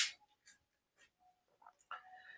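Hand-writing of a maths equation: short, dry scratching strokes come in separate bursts with quiet gaps, close and clear.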